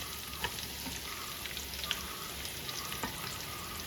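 Two large chopped onions fry in oil with ginger and garlic for a Kerala-style beef curry, producing a continuous close crackling sizzle with occasional light pops and stirring taps, and no talking.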